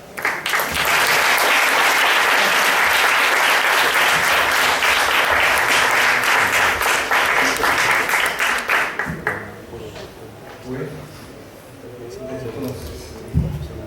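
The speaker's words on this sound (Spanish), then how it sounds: "Un fuerte aplauso para..." A seminar audience gives a loud welcoming round of applause for a visiting historian, dense clapping for about nine seconds that tapers off, followed by a voice speaking alone.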